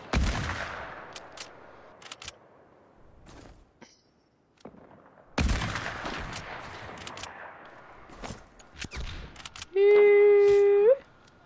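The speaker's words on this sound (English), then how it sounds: "He got sniped." Sniper rifle shots boom and echo in Fortnite, a loud crack at the start and another midway with long decaying tails, scattered smaller shots, and a sustained tonal game alert near the end.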